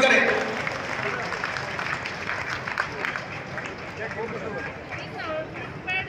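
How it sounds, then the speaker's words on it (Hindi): Crowd clapping and cheering at a BJP Vijay Sankalp rally in the new grain market in Jind, a steady dense wash of applause with murmuring voices throughout, fairly loud and continuous. "तालियां बजा करके उनका जोरदार स्वागत करें"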